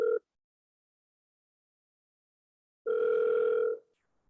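Outgoing telephone call ringback: a short tone burst at the start, a long silent gap, then a second steady ring of nearly a second, clear and alone with no talk.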